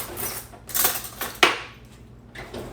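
A big spoon is pulled from a kitchen drawer, with several quick metallic cutlery clinks and one sharper clatter, close and fairly loud, with no talking.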